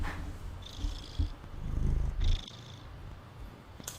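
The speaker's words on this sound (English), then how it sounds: "Can you hear him purring?" A soft, low rumbling purr from a cat held close, steady and continuous with slight swells, plus a few faint clicks and rustles.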